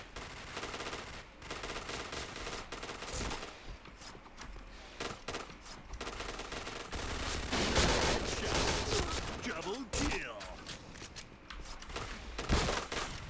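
Rapid bursts of automatic gunfire from the shooter video game Point Blank, dense and continuous with sharp, loud peaks, heavy near the end.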